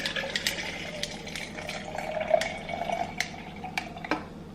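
Cold brew coffee mixed with coconut water trickles and splashes as it is poured into a glass, a close, fairly quiet liquid stream with small drips and light clinks, no voices.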